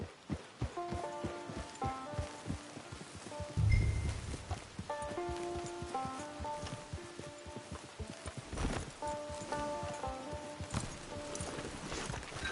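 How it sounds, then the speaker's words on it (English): Hooves of a horse in a video game clip-clop in a steady walking rhythm, fairly close, under a gentle musical score with soft ambient rustle and a brief low thump. "It's your horse"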